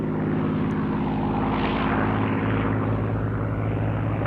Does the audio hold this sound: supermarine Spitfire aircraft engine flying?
yes